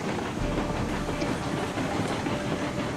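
A small steam locomotive in the Railroads Online video game hauls a heavy train, a steady rolling rumble with rail clatter and puffing throughout, loud and continuous.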